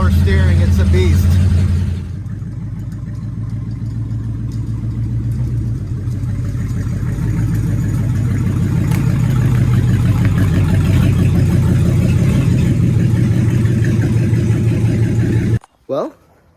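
A 1959 Edsel Corsair barn find, running on flat tires without power steering, drones loudly and steadily as it drives along. The engine noise cuts off abruptly near the end.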